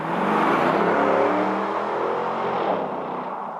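Restored and modified Chevy Thriftmaster pickup with a stainless steel dual exhaust and ceramic-coated headers revving hard, a loud close roaring surge that holds and then eases slightly.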